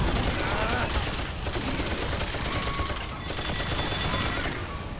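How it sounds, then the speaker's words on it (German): Gunfire in Remnant 2, a sustained, dense volley of shots and crackling impacts running for several seconds with steady loudness and a slight dip midway. "So, ich schieß mal hier"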